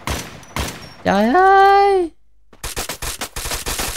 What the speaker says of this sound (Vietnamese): súng bắn không có chính xác. Bắn đạn đi đâu vậy trời?